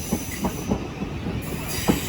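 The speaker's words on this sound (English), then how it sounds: "second being 377 147 leading in the" A Class 377 Southern electric train rolls through East Croydon station, loud and close, with rhythmic wheel clicks over rail joints, a continuous rumble and a thin high squeal, with no talking.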